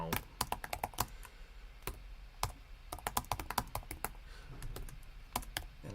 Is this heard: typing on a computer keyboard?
yes